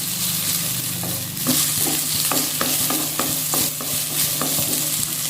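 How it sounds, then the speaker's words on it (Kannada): Onions frying in a pan for a Mangalore-style clam sukka, a steady bright sizzle with soft scraping stirs and small pops throughout, close and fairly loud. "ಒಂಚೂರು ನೀರುಳ್ಳಿ ಒಂಚೂರು ಫ್ರೈ ಮಾಡ್ತದೆ"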